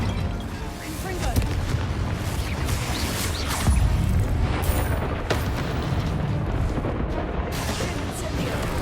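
Confringo explosive spell cast repeatedly in Hogwarts Legacy, heavy booming blasts and crackling impacts over a constant roar of game combat, with several loud hits across the stretch.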